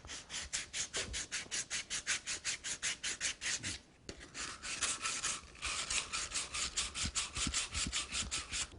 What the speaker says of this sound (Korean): 이거는 더 고운 사포이기 때문에 더 한결 부드러워집니다.